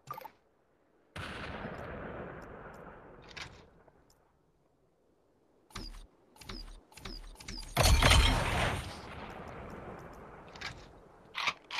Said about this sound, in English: I'm getting sniped.